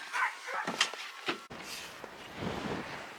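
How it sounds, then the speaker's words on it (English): A dog barks a few sharp times outdoors in the snow near a John Deere 4720 tractor, close and brief, then gives way to quiet ambient noise. "All of a sudden I heard Rover barking at me"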